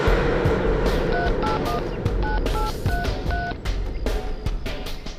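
A public phone's keypad sends a quick run of short dialing beeps in an uneven rhythm over steady traffic rumble and street noise.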